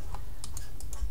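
Arrow keys on a computer keyboard pressed while arranging items in MS Word, a handful of light, separate clicks spaced irregularly over about a second, close and fairly quiet, with no talking.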